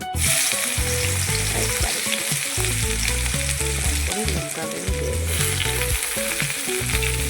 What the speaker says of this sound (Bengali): আমার তো তেলটা গরম হয়ে গেছে তো এখন আমি রসুন রসুন পেঁয়াজ দিয়ে দেবো